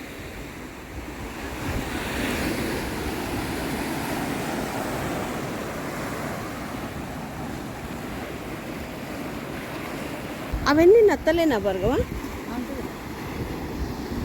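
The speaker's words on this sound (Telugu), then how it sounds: "అలలు ఎలా వస్తాయో బాబోయ్ ఇక్కడ దాకా." Steady surf from the Arabian Sea breaks along the rocky Somnath shore under light wind noise, with a person speaking briefly near the end over the rushing waves.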